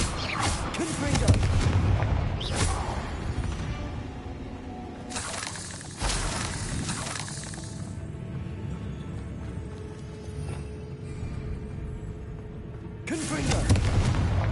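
Confringo blasting spell explosions in the video game Hogwarts Legacy, several loud booming blasts with crackling debris spaced across the clip over a low game rumble.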